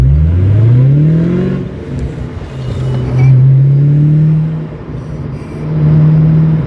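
A Ford Mustang accelerates at light throttle from inside the cabin, its engine drone rising and falling through gear changes with a low, steady rumble and some road noise.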